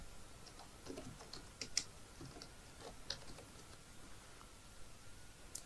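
Fingers tap out an app name on a computer keyboard in a quick, irregular patter of light clicks, close and fairly quiet, with a couple of sharper keystrokes and no talk.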